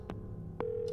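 A phone number being dialed in the horror adventure game Scratches, with two distinct tone bursts followed by a steady held tone, close and clear against a low background hum.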